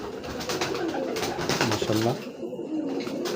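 A racing pigeon gives a short, throaty coo close by, one rolling call in the middle of a brief stretch of background noise.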